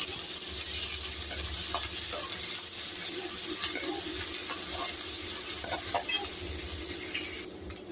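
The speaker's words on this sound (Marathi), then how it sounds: "कांद्याला थोडंसं तेलावर आपल्याला परतून घ्यायचं आहे" Sliced onion and curry leaves sauté in oil in a pan, a steady soft sizzle with scattered stirring clicks. It stays close and even before dropping away near the end.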